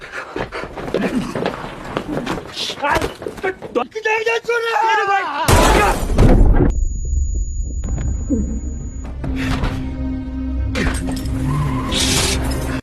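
A fleeing car speeds away with skidding tyres during a chase in the film City of the Lost, loud and close, mixed with panting, a heartbeat-like thump and other dramatic scoring.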